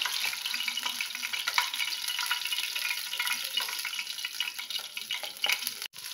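Bata fish pieces fry in oil in a home kitchen, a steady, dense sizzle with small pops throughout and a brief dip near the end.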